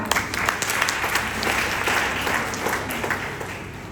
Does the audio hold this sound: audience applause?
yes